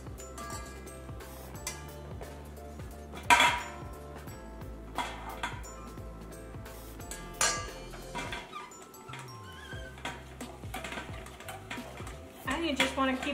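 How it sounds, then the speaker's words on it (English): A hand-cranked food mill grinds cooked apples into applesauce, producing repeated scraping, metallic clinks and knocks against the pot at close range, with a voice talking in places. "So I'll just get started on the food mill."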